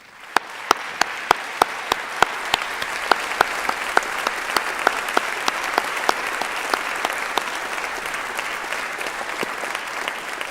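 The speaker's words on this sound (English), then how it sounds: "please join me in a round of applause for the Swinburne staff" Graduates applauding university staff at a Swinburne graduation ceremony in a large hall, building into sustained broad clapping from a big crowd with sharp nearby individual claps standing out rhythmically throughout.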